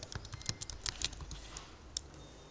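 Someone types on a computer keyboard, a quick irregular burst of close, crisp key clicks with short pauses, fading to quiet near the end with one last tap.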